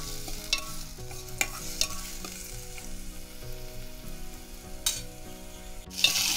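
Onion tempering (phodni) frying in hot oil for a spicy dried-fish, brinjal and potato curry, with a steady sizzle and repeated scraping stirs from a spoon in the pan, plus a few sharper clinks near the end; no one speaks.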